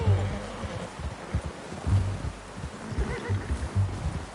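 A horse whinnies in a video game, with short bursts of neighing and snorting over rustling, hoof-like ambient sounds at moderate distance.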